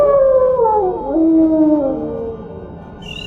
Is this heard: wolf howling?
yes